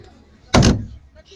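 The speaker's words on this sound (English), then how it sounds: "closing the door" An armored light patrol vehicle door slams shut once, a short heavy thud with a metallic latch ring, loud and close in an otherwise quiet moment.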